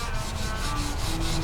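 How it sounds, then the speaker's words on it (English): Close, steady scratchy rubbing of sandpaper worked back and forth by fingertip on car paint in short repeated strokes. "not fond of finger sanding at all"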